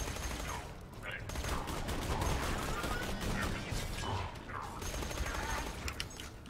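An RPG loader fires a volley of rockets in the video game Borderlands 2: a rapid string of crackling, popping launches and impacts with mechanical clatter, running steadily at moderate loudness with no pause.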